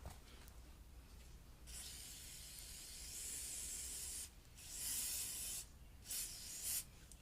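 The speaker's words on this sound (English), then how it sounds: "spray a little brake clean on it." Brake cleaner hisses out of an aerosol can onto the oil drain of a Honda CRF230L motorcycle in several close bursts of varying length, each separated by brief pauses, with no talking.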